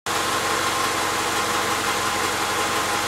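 A 1995 Honda Accord engine idles steadily and loud and close, a smooth even mid-range drone with a low rhythmic pulse, with no voices.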